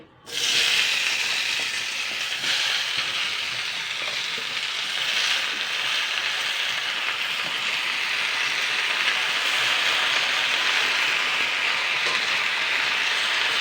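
Fresh chopped spinach stalks hitting a hot wok with no oil give a loud, steady broadband sizzle that starts sharply and holds throughout.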